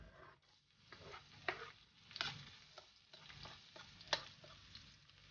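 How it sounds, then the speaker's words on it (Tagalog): Garlic sautéing in a pan for Filipino pinakbet, a quiet continuous sizzle with a few sharp stirring clinks and scrapes scattered through, no talking. "So, umpisahan na natin mag-gisa."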